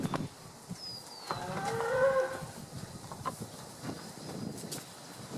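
Cattle out on pasture near a multinutritional feed block moo once in a drawn-out, fairly distant call, over a quiet outdoor background with soft rustling and scattered clicks.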